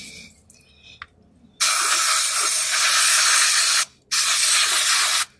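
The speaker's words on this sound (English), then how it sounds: "20 gallons of brake clean. These cans run out quick." An aerosol can of brake cleaner sprays in two loud, close hissing bursts, a long one of about two seconds and a shorter one after a brief pause, with faint clicks beforehand.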